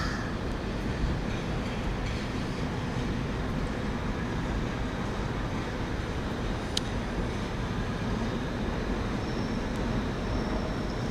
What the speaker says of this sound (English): You have another tube service coming in.